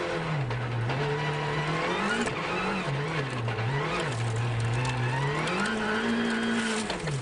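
A rally car on a snowy Monte-Carlo special stage at the 2013 Rallye Monte-Carlo, its engine droning loud and steady up close, the pitch rising and falling with each burst of acceleration and easing off.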